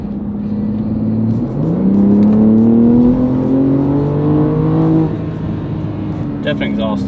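A BMW M2 G87 fitted with MAD front-mount intakes revs up from idle, climbs in pitch, holds, then drops back. The exhaust sounds loud and close, with faint clicks near the end.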